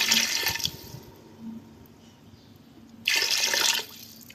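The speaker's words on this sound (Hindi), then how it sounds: "तकरीबन हाफ लीटर पानी डाल देंगे" About half a litre of water pours in two short bursts with a quiet pause between, splashing nearby into a pressure cooker of aloo gosht curry.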